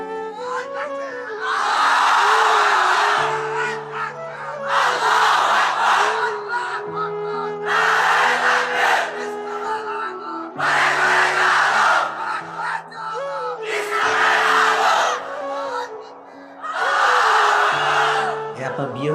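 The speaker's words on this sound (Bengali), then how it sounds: "দাও তাকবীর দাও একটা" A crowd roars takbir (Allahu Akbar) in loud, full-throated bursts, about every three seconds, from a group of men at a Bengali religious gathering. A leader's voice rises between the chants.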